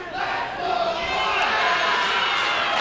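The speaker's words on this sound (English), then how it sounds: "Amir Jordan feeding off this crowd." Wrestling arena crowd at a steel cage championship match roars and cheers loudly and continuously, a dense wall of shouting voices filling the space.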